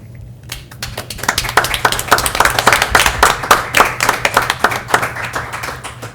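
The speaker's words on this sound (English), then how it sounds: "Let's have another round of applause for our panelists" Audience at a New Orleans poetry festival claps loudly and close by, starting sparse and quickly growing into dense, rhythmic hand clapping that rises to a peak and then tapers slightly.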